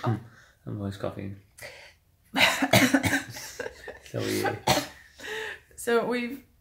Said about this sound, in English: I'm always coughing.